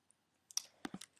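A few sharp computer mouse clicks on a Share button, close and quiet, one faint tick followed by a small cluster of crisp clicks, with no talking.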